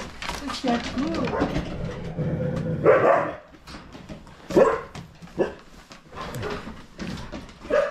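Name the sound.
dogs barking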